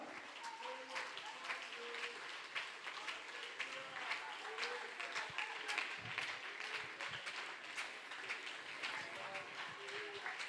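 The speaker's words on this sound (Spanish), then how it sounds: "¿Por qué no le da un aplauso al Señor" A church congregation gives scattered, modest applause, with individual claps audible while a voice keeps speaking over it throughout.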